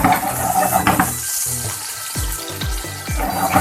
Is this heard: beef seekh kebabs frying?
yes